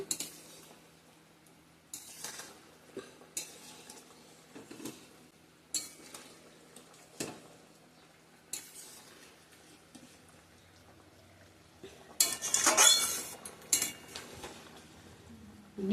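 Pabda fish goes into a pot of vegetable curry and is stirred with a metal spoon, producing sparse clinks and scrapes against the pot, then a brief burst of sizzling, with quiet gaps between.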